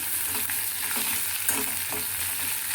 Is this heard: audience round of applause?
no